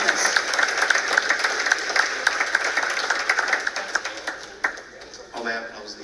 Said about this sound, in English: This applause is for Our Lady.